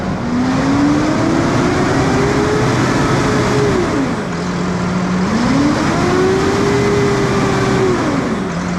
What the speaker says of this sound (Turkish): bize güzellik yapacak, traktörü çalıştıracak.